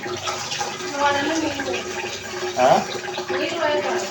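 Water splashes and swirls in a white bowl being washed by hand, sloshing and trickling close by in uneven bursts, with a voice talking over it.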